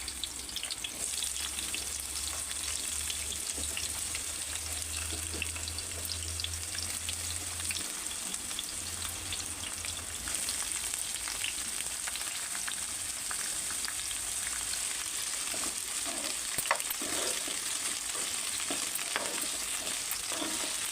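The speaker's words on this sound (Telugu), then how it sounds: "ఆయిల్లో వేయించుకోవాలి" Bitter gourds (boda kakarakaya) fry in hot oil with a steady, dense sizzle that holds an even level throughout, with a low rumble early on and no talking.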